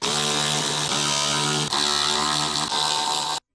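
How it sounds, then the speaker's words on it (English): A small electric impact wrench with a 5.5mm short socket removes the stereo retaining screws from the left rear door of a Ford F-150. It gives a loud, continuous buzzing hammer rattle with one brief dip, then stops abruptly. "With the small electric impact wrench, remove the stereo retaining screws."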